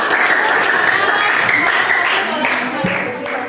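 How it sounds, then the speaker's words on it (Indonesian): Steady, dense clapping from a classroom group, sustained throughout with no pauses, fairly loud and fading slightly toward the end. "Berikan tepuk tangan lagi sekali untuk kelompok."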